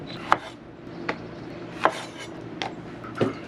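Several sharp knife chops on a cutting board, cutting the tops off chili peppers, spaced irregularly about once every half second to second, close and crisp with a quiet background.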